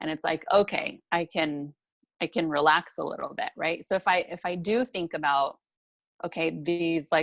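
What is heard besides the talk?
No everyday noises stand out.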